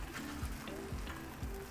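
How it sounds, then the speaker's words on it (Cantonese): A cabbage and egg pancake fries in a hot pan with a steady, close sizzle and crackle that runs unbroken throughout. "咁啊煎到佢咧有呢一個金黃色咧，你就可以攞上嚟擺好佢噶啦。"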